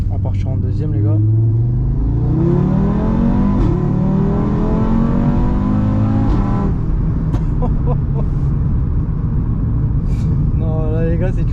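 A 600 hp Audi RS3 pulls away hard in second gear, its loud engine note climbing steeply in rising sweeps before easing off, with close, raw intake and exhaust roar throughout.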